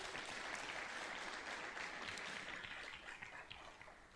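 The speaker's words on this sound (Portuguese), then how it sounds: "Tem gente, pode aplaudir mesmo." Church congregation applauding together, a steady wash of clapping that holds level for several seconds before easing slightly toward the end; no talk over it.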